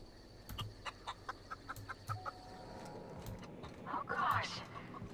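A rooster in The Outer Worlds gives a run of short, evenly paced clucks that fade into a softer background, with a brief louder squawk near the end.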